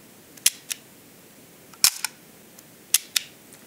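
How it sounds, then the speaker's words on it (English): Agfa Ambi Silette camera's leaf shutter firing, compared with a Minolta Super A, giving sharp close mechanical clicks in several separate shots, each with a quieter secondary click, over a quiet background. "Even though it is a leaf shutter, it is not too silent."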